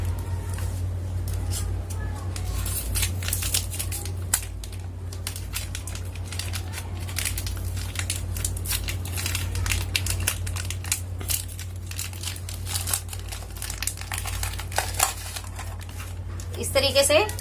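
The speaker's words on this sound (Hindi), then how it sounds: "तो चलिए पहले ओरियो को छीलकर" Oreo biscuit packets crinkled open and biscuits pulled apart by hand, continuous close crackling and crunching plastic wrapper noise with occasional clicks and taps, over a steady low hum and intermittent talking.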